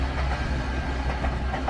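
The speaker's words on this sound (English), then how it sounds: "So here comes the regional train." A diesel regional train passes on non-electrified tracks near Lara, Victoria, Australia, giving a steady low engine rumble with a faint rhythmic rolling clatter, close and continuous.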